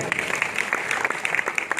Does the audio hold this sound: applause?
yes